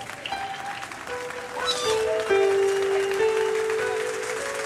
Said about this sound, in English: They are clapping.